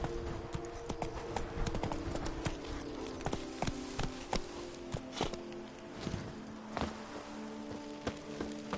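Horse hooves clip-clopping steadily at a riding pace in The Witcher 3: Wild Hunt, Blood and Wine, a continuous close rhythm of hoof strikes over low ambient game sound.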